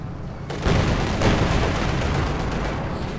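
Heavy cannon blasts and rumbling battlefield gunfire in Company of Heroes 2 as a Sturmpanzer IV fires on a T-34, a loud boom followed by sustained dense explosive noise.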